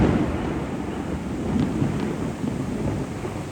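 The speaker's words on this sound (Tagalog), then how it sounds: "narinig nyo, ang lakas ng kulog" Heavy rain pours steadily over a rural yard in Rizal during a storm that brought down a guava tree, with low rumbling thunder rolling beneath the constant downpour and no voices.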